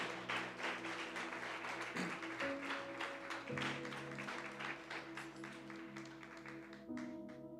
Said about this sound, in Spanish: Damos un aplauso a Dios por su palabra.